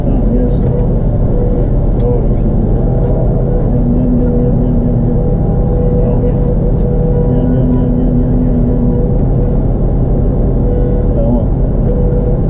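A Laverda M310 MCS combine harvester runs with a loud, steady diesel drone and a constant low rumble, while someone talks over the machine throughout.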